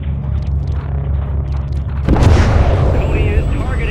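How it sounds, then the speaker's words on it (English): A missile strike slams into a SAM site in the war game Call of Duty, a sudden loud close explosion with a deep rumbling boom that follows a steady low engine drone. "Hit that SAM site with a missile."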